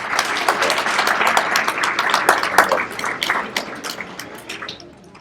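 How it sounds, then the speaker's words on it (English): An audience at a GED graduation ceremony gives sustained applause, a dense crowd of clapping hands that rises and then gradually fades out. "Let's give her applause,"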